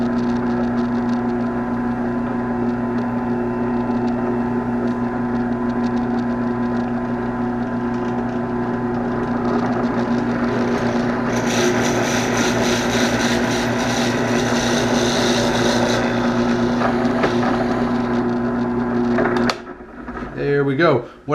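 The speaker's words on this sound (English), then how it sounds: "let's go ahead and get this drilled." A drill bores a hole into a homemade vaping coil jig, giving a steady motor whine throughout, a harsher grinding stretch partway through as the bit bites, then cutting out near the end.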